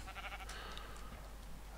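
Sheep bleating in the video game Minecraft, a few short quiet bleats in the first half over steady low background hum, no talking.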